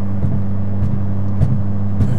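A Mitsubishi Evo X MR, running a new tune on E85, drones steadily while driving, with a loud low engine hum and a few faint bumps, heard from inside the car and with no talk.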